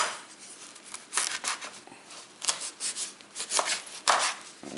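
Knife chopping fresh rosemary and garlic cloves into big chunks on a board, a series of close, irregular crisp cuts and scrapes with short pauses between bursts, no talking.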